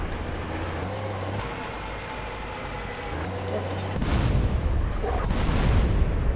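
A tank fires its cannon in the video game GTA San Andreas: a steady engine rumble runs throughout, then a loud, broad blast hits and the noise stays heavier to the end, with voices talking over it.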